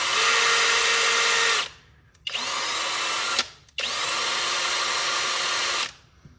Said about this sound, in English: take a standard drill, okay? Chuck it up in the drill, lock it in, take a piece of Scotch-Brite